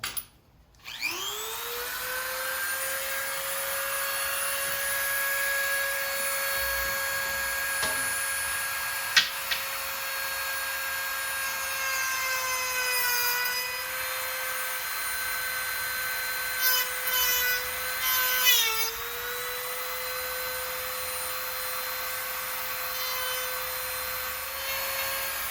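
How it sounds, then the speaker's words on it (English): A Dremel rotary tool whines at a high, steady pitch while cutting gasket material off a bracket on a 1971 Monte Carlo SS engine, its tone dipping briefly under load, with a few scraping bursts partway through. "I'm going to get a Dremel, and I'm just going to cut that gasket material off"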